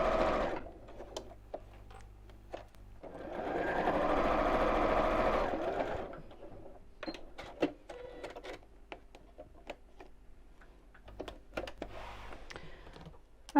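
A sewing machine stitches through several thick layers of fabric for a dog treat bag, a steady whirring run in the middle framed by quieter clicks and handling noises, no speech.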